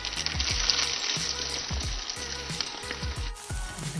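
Frozen mushrooms and tomato paste frying with spices, a loud, close, hissing sizzle with rhythmic spatula scrapes every half second or so, and no talking.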